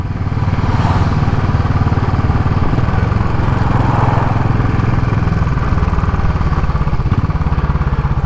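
Royal Enfield Classic 500 single-cylinder motorcycle engine thumping steadily on a test ride, a loud, continuous low rumble with a constant beat and no voices.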